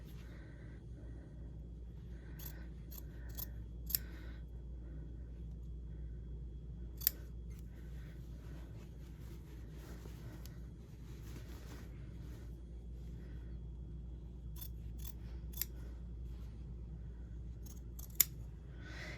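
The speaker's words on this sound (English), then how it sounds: "I'm going to trim my facing seam allowance down to 1/8" Scissors trimming a facing seam allowance on fabric, a run of quiet snips spaced unevenly, with a few sharper clicks standing out over a low background hum.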